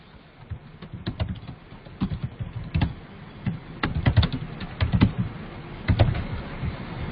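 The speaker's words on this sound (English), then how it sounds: "I am going to type a descriptions." Typing on a computer keyboard, irregular bursts of close key clicks and heavier taps on what may be the space bar, with no voices.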